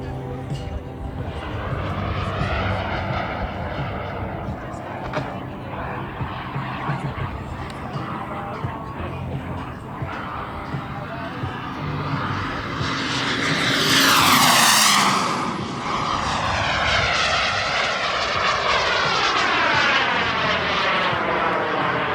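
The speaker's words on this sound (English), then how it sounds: "That's crazy Chris up there flying, doing crazy aerobatics." An Elite Aerosports Picaro paramotor engine drones steadily overhead during aerobatic flight, swelling louder with a clear Doppler sweep as it passes close, then fading back to a sustained buzz.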